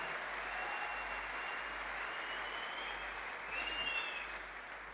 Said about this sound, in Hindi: मिस्टर योगेश कुमार यादव और मिस्टर पवन यादव जी के लिए जोरदार तालियां बताइए